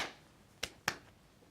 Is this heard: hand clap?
yes